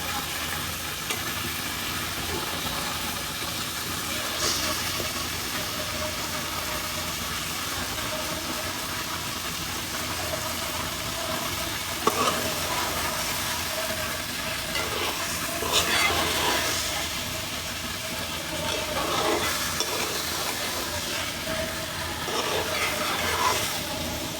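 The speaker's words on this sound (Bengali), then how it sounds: "কষানো হয়ে গেছে, মাংসটা এখন দিয়ে দিচ্ছি।" One kilogram of chicken meat goes into a pan of cooked-down spices for a low-spice chicken curry, giving a steady, even sizzle with occasional faint stirring clatter, and no one speaking.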